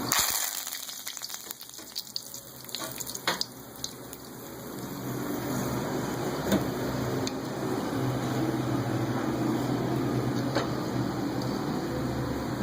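Curry leaves dropped into hot oil for tempering with the heat switched off, a few sharp pops and clicks at first, then a steady loud sizzle that holds to the end.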